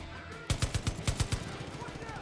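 Gunfire in the video game Far Cry, a quick burst of about ten rapid, evenly spaced shots over a low ambient game background, moderately loud with no speech over it.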